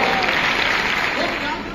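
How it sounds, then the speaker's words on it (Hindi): An audience applauding a singer, a continuous wash of clapping held steady for a couple of seconds before easing slightly. "इनके लिए ताली बजा रही है"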